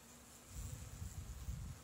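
A honey bee swarm buzzes low and steady, a faint continuous drone that swells slightly through the short stretch with no voices.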